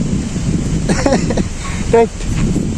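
Wind blows against the microphone beside a fish pond and river in Nepal in a low, buffeting rumble while a person talks over it.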